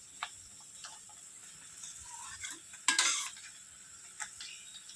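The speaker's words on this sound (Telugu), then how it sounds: "కరివేపాకు ఇది ఒక 3 నిమిషాలు బాగా వేగిపోతే సరిపోతుంది" Curry leaves fry in a pan for a pickle, giving a faint, steady sizzle with occasional soft stirring scrapes and one louder scrape partway through.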